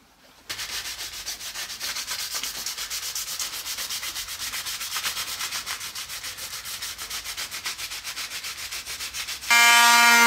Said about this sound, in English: we're going to give it a good sanding